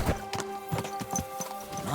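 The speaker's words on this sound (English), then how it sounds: "My God, that looks like a bloody expensive horse." Horse hooves clip-clopping in Kingdom Come: Deliverance 2, a series of distinct, fairly close thuds at a steady walking pace, with faint game ambience behind them.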